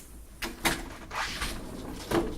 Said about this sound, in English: Open up my door because it's starting to get a little bit warm in here.